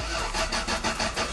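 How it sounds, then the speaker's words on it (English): A Lexus LS 430 cranks over with a rapid rhythmic churning of the starter, close and loud, as the engine turns and struggles to catch. "Car, will you start?"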